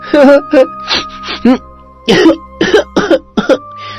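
A child coughs repeatedly in short, harsh bursts, some with a raspy, throat-clearing quality, close and fairly loud.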